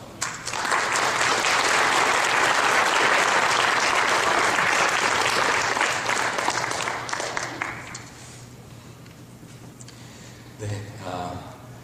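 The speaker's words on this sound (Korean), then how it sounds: "우리가 박수로 환영하도록 하겠습니다." A church congregation claps steadily for several seconds, welcoming a pastor to preach, loud and sustained, then the applause fades out, followed by a brief murmur.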